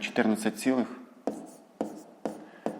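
Numbers being written by hand with a pen on paper during a fifth-grade maths exercise, a few brisk scratchy strokes following a short stretch of speech, close and clear.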